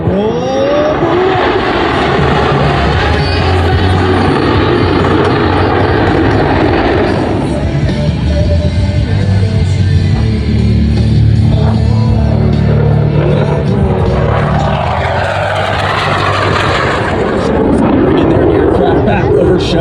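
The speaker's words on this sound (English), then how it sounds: "Ladies and gentlemen, the Blue Angel barrel roll." Blue Angels jets roar through a barrel roll at the Spirit of St. Louis airshow, a loud, continuous jet rumble sweeping across the full twenty seconds, swelling and fading as they pass, with announcer talk and crowd noise mixed in.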